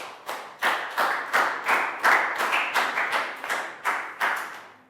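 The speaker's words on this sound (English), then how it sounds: "Big high five and round of applause for Prel." Year 3 pupils in a classroom applaud a classmate with a steady, rhythmic run of about a dozen loud unison claps close by.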